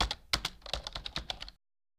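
Quick keystrokes on a computer keyboard while entering text into an Excel 2016 sheet, a close, light burst of about a dozen clicks in uneven rhythm that then stops.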